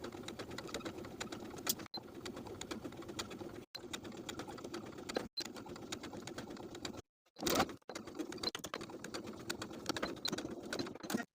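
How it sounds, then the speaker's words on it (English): A sewing machine stitches bias tape around a garment neckline in quiet, steady bursts of rapid mechanical whirring, stopping briefly several times between runs. "Sew the bias tape to the neckline all the way around with a 5/8 inch seam allowance."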